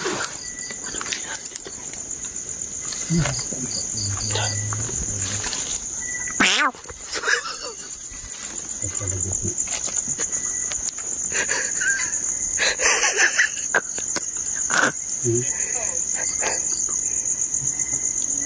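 Steady, high-pitched grasshopper chirping fills the night air continuously, with occasional rustles and handling noises nearby and faint voices at times.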